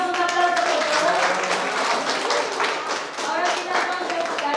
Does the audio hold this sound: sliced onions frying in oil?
no